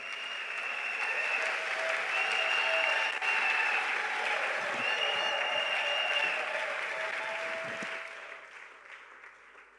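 A church congregation applauds at a French-language Sunday worship service, sustained dense clapping close and loud for several seconds, with a few voices audible underneath before it fades out.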